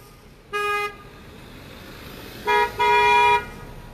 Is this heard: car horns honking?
yes